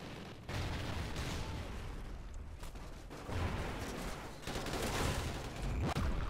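Call of Duty: Ghosts multiplayer gunfire, a dense, continuous barrage of shots and blasts, loud and close with bursts swelling throughout.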